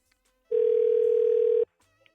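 A single steady electronic telephone tone sounds for about a second, clean and close, with near silence before and after.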